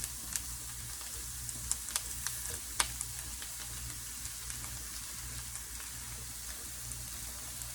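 Garlic softening in a pan, a soft, even sizzle over a low hum, with faint scattered pops and ticks throughout.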